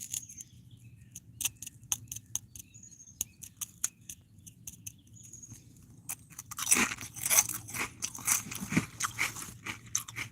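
Potato chips crunched and chewed close up, sharp irregular crackles at first, then a louder dense burst of crunching in the final seconds, with no talking.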